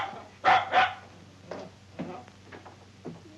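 A dog barks in a comedy scene: two sharp, loud barks close together, then softer, scattered yips and whimpering sounds fading across a few seconds.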